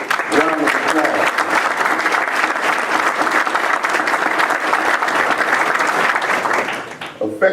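A large audience gives sustained, even applause for standing school leaders, including the school board president, at a county commission chairman's event; thick continuous clapping with no talk, tapering briefly at the end.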